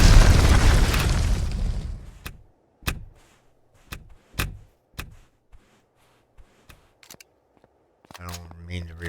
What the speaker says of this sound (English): Alright, that place blew up.